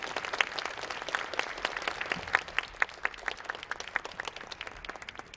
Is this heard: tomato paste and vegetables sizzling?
no